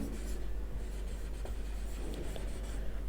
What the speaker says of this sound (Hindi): मैं यहां पर लिखता हूं